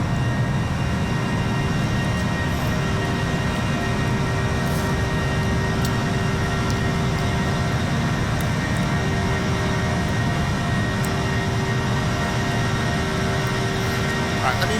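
Steady, loud cockpit drone of a Flight Factor A320 airliner in the X-Plane 11 simulator, a continuous engine hum with a faint whine running unbroken throughout.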